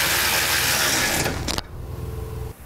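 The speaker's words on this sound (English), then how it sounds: "Okay, we can snug that bolt on up now." A bolt is tightened into the frame of a 2013 Ford F-150 while an air helper spring bracket is mounted. A steady, close mechanical whir runs for about a second and a half, then cuts off, leaving quieter shop noise.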